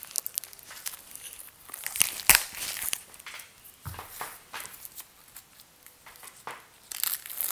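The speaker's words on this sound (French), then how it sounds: "je peux ouvrir un paquet éventuellement." A plastic-wrapped pack of cards from the Helionox Deluxe Edition card game is opened, giving bursts of close crinkling and tearing of the wrapper, with louder crackles and quieter stretches between them.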